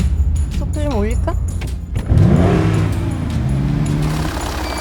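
A Maserati's engine and exhaust rev up with a rising growl, loud and close, while people talk over it throughout.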